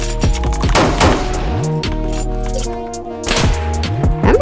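Video game gunfire in a street shootout, repeated loud bursts of rapid shots in two main volleys with a lull between, ringing over electronic tonal background sound.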